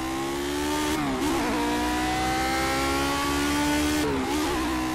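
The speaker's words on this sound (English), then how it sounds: "Oh! Jesus Christ, the understeer. The understeer is too real. And the wheel spin is too real." Lotus 49 race car engine at Monza in Project Cars, screaming at high revs with two sharp gear-change dips and climbs again, loud and close with no talking.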